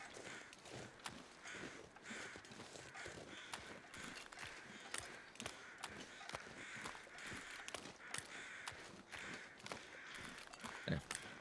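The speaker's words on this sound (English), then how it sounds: "Following these crows sound." Faint crows caw here and there over quiet ambient sound in the video game The Long Dark, with soft footsteps and occasional clicks.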